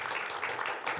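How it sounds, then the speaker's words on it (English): A church congregation claps for a young worship team leader, a short, steady patter of applause from a modest crowd at moderate distance. "Applause for that."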